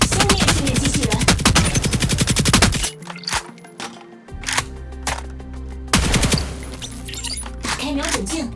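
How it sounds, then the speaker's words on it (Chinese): Rapid automatic gunfire from an energy weapon shooting robots in the Android beta of Hyper Front 2, loud and continuous for about three seconds, then a quieter stretch before more bursts of fire return near the end. "开火，消灭对面机器人。"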